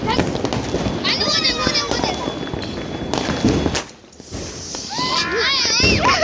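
Diwali fireworks including a rocket launch, with sharp bursts and a whooshing streak amid excited voices and children talking over them, loud and close.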